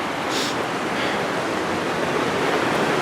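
A river in the San Gabriel Mountains rushes in a dense, continuous broadband wash, loud and close with no voices.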